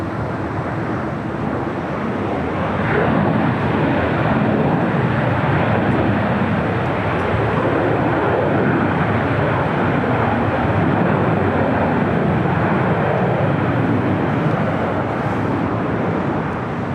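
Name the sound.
Boeing 737-800 airliner arriving at LAX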